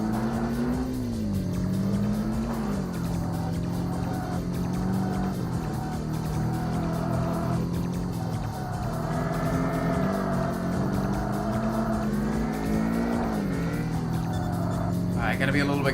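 A powerful AMG engine in the racing game Kaido Racer, revving steadily as gears rise and fall with wavering pitch, continuous and close, while a person talks over it.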